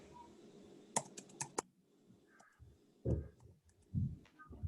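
Keys on a computer keyboard clack in a quick burst of sharp strokes, followed by a few heavier, duller taps after a short pause; close and moderately loud, with no talking.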